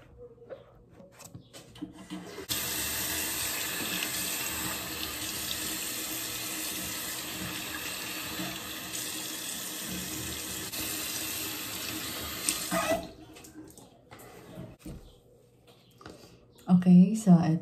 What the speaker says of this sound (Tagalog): Okay, so wash na tayo with warm water.